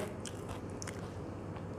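Crunching bites into crispy deep-fried dried fish, several brittle crackles spaced unevenly across a short moment of close chewing, with no talking.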